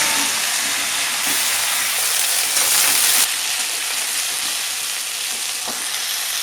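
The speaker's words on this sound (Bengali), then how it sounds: "সবজিগুলোকে সুন্দর করে ভেজে নিতে হবে" Mixed vegetables for Bengali shukto fry in a pan, giving a loud, dense, continuous sizzle with occasional stirring scrapes, close up and alone.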